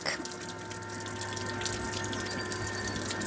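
Grey water flushes through the waste holding tank of a motorhome at a service point, a steady continuous rushing gush with a faint mechanical hum beneath, close and even throughout.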